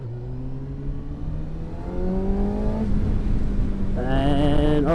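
Kawasaki Ninja ZX6R 636 motorcycle, a 2013 model, accelerating hard into a corner, its engine note climbing through rising revs with a gearshift, then pulling higher again near the end; loud and steady, with no talk.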